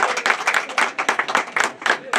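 Small group gathered for a grape harvest feast in Karanlıkdere, Yozgat, claps for its hosts in loose, uneven bursts of close, lively hand claps.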